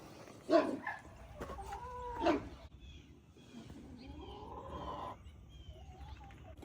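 A few soft clucks and squawks from chickens, close by and sparse, with quiet gaps between calls.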